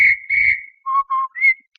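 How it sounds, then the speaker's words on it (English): A policeman's whistle sounds in a quick pattern: two shrill blasts, two lower-pitched toots, then a final high blast, loud and close. "you hear a policeman's whistle that goes like this"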